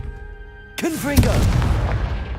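The Confringo blasting spell in the game Hogwarts Legacy goes off as a sudden loud boom followed by crackling fiery bursts and a lingering rumble, with a voice calling out just before.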